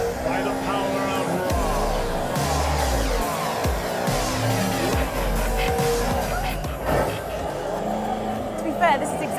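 Racing car in a video game revving, crashing into walls and skidding with tire squeals, engine roar steady and loud throughout while a person talks over it.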